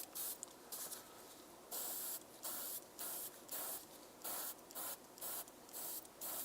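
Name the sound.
airbrush spraying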